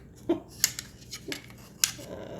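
Plastic kitchen utensils, including slotted and regular spatulas, a fork, a spoon and a spork, knocked and shuffled together in a few sharp, separate clacks and rattles close by, with quiet gaps between them.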